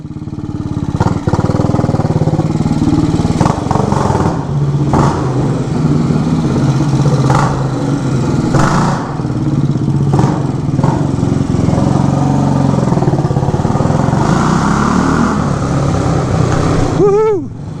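A 1967 Harley-Davidson H Sprint 250 motorcycle engine runs loud and close, idling and blipping the throttle in repeated revs, with a short rising whine near the end.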